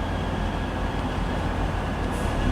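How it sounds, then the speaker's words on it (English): A train terminating from Liverpool Lime Street pulls into a Manchester Piccadilly platform, a steady loud rumble of wheels and engine filling the air throughout without a break. "here comes a terminating from Liverpool Lime Street. This is actually our train to Manchester Piccadilly."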